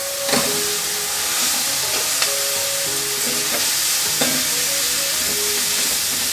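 Pasta tossed into a hot pan of oil and stirred for an Indo-Italian dinner, giving a steady close sizzle and frying hiss with clinks and scrapes of the spoon throughout.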